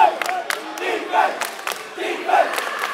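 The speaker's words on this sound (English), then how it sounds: "listen to the crowd with the chant of defense" High school boys basketball crowd chanting defense in a gym, a rhythmic two-beat chant repeating about three times, fairly close and loud, with sharp shoe squeaks and court noise between the calls.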